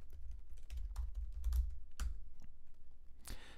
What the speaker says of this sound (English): So I could just type Tim here